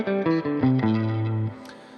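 A guitar run through an effects unit plays a quick descending scale of about six sustained, slightly distorted notes, the last one ringing out before fading.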